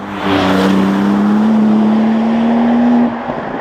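A tuned 600 hp manual Porsche 911 992 GTS revs hard in second gear, loud and close, its engine note climbing steadily in pitch for about three seconds before the throttle lifts.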